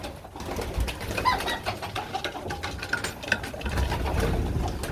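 A feral pigeon cooing inside a pigeon loft, with low, steady, continuous coos and soft rustling, close by and fairly loud.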